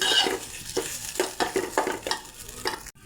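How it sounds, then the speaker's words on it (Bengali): Damp rice lightly frying in ghee in a pan, stirred with a spatula in regular scraping strokes about twice a second over a soft sizzle, close and fairly loud. "চালটা হালকা ভেজে নেব"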